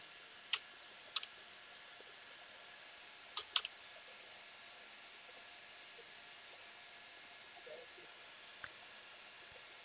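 A few scattered keystrokes on a computer keyboard while entering an apt-get update command in Ubuntu 16.04, with clicks in small clusters over a faint steady hiss and no talking.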